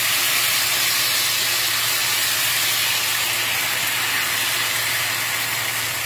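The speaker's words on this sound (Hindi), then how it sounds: "ये हो गई मिक्स होने के बाद इसको फ्राई पैन में डालते हैं।" A potato mixture for crispy potatoes sizzles and hisses steadily in hot oil in a frying pan, a continuous close, fairly loud frying sound with no pauses.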